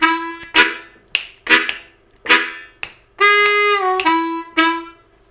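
A chugging lick played on an A harmonica, a rhythmic series of short, punchy breathy chords in a loose swung pattern, with a few longer bent notes toward the end, close and alone.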